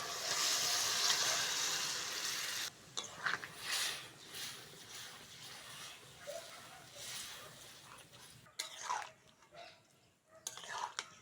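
Boiled lentils, potato and bottle gourd greens dropped into spices frying in oil: a loud sizzle at first that dies down as the food goes in, followed by stirring scrapes and soft clatter.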